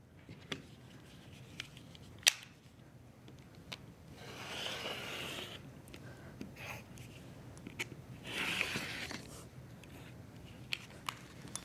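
Cutting two sides of quilt fabric, probably with a rotary cutter along a ruler: quiet scraping and slicing strokes with occasional soft clicks and taps, heard close and faint.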